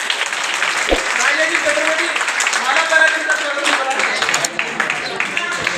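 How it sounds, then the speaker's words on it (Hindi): Sustained, loud audience applause at a school celebration of International Girl Child Day in Bundi, dense clapping with voices and a sung or spoken tone running underneath. "आप जोरदार तालियां बजाएं"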